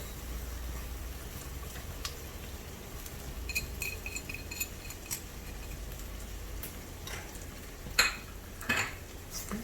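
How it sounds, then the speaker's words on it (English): Fried squid with chili and basil is stirred in a pan, with a soft background sizzle and scattered metallic clinks and scrapes of utensil on cookware, close but fairly quiet, without talking. "stir it up well"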